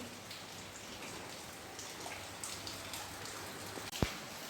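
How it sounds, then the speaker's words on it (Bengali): Heavy rain falls steadily outdoors, a dense, even wash of patter heard at moderate distance, with one sharp knock near the end. "এখন আবার মশাল ধরা বৃষ্টি হচ্ছে, ভালোই বৃষ্টি হচ্ছে"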